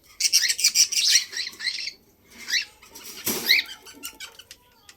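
A one-winged bird giving bursts of harsh squawks and chirps with fluttering, flapping wing sounds, close and lively with short pauses between calls.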